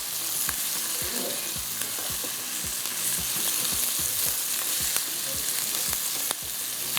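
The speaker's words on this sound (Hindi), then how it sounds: "अब इसको आपने इस तरह से थोड़ा प्याज के साथ आपने इसको अच्छी तरह से भून लेना है।" Chicken pieces with onion sear in a pan, a bright, steady sizzle running throughout with a regular beat of spoon strokes scraping and tapping the metal, close and loud.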